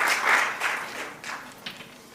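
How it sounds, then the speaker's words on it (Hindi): An audience at a poetry gathering applauds the poets, a short wash of clapping that swells and fades in a few waves, fairly close and moderately loud. "इन सभी हस्ताक्षरों का जो है जोरदार सम्मान से तालियां बजाइएगा।"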